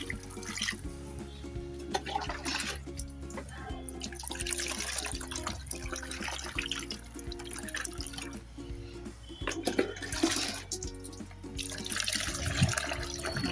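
Water pours slowly from a small tub into a pot while planting lotus tubers, giving a soft, continuous trickle and splashing that swells in places over a faint tonal background.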